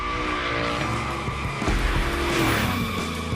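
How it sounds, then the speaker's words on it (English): Tires skid and squeal as a car slides through a Gymkhana drill in The Crew Motorfest, the squeal rising and falling over a steady engine drone, loud and close throughout. "Let's see how you handled your first slides with the Unicorn."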